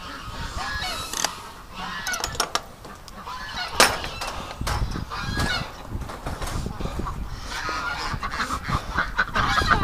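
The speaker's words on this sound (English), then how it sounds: "Oh, look at the Canada geese are right beside the pen." A flock of Canada geese honking and calling continuously beside a pen, a busy overlapping chorus at close to moderate distance, with a few louder squawks.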